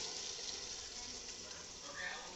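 Potatoes for North Bengal alu ghati go into a hot frying pan, giving a steady close sizzle and frying hiss that holds evenly throughout without a break.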